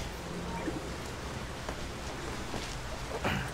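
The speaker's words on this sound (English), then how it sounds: "no? Why rain?" Steady rain falls in the video game Portal Revolution, a continuous hiss throughout with a few soft taps and thuds on top.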